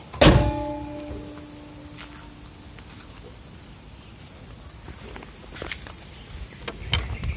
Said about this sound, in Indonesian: Ini kita tutup dulu kap mesinnya